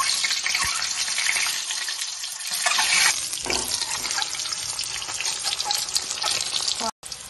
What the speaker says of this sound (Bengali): প্রথমে দেবো নুন, এবারে ডিমটা ছেড়ে দেবো।